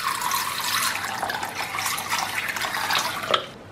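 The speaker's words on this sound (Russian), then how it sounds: "Заливаем бобы чистой водой" Clean water pours over about 100 grams of small green mung beans in a bowl, a steady close splashing stream that cuts off abruptly at the end.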